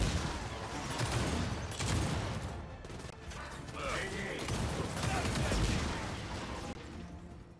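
Bursts of gunfire from guns in the shooter Gears of War 4, dense overlapping shots mixed with mechanical clatter that swell and fade over several seconds, with voices faintly underneath.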